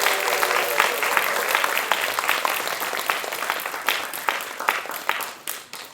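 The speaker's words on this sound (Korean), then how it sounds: "수강생 여러분들에게 다시 한번 큰 박수 부탁드립니다" An audience at a Korean traditional music school's anniversary talk concert applauds, a dense burst of clapping that holds strong for several seconds and then tapers off toward the end.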